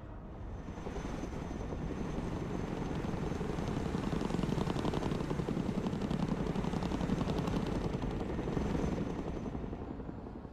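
Chinook helicopter landing in the video game Broken Arrow, a continuous rapid rotor thumping that swells slightly in the middle and holds steady to the end, loud and alone.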